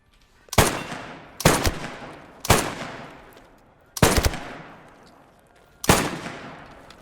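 Five separate loud gunshots ring out at uneven intervals while shooting at targets in the Squad 44 video game, each a sharp crack with a booming tail that fades before the next shot.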